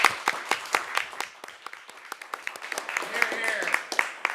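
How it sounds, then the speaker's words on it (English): Applause for city employees at a city council meeting: many close, crisp claps forming a brisk ongoing round, with a voice speaking briefly toward the end. "I'll give all of those employees a round of applause."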